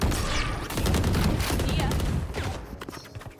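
Valorant gunfire heard through a VCT Americas esports broadcast, with dense rapid shots crackling in a loud burst and scattered single cracks trailing off, under a commentator talking.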